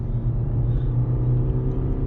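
Suzuki Ciaz 1.5 litre engine pulling hard under acceleration, a steady loud low rumble with a rising drone, continuous and close, no voices.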